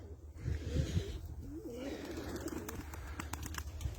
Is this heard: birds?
yes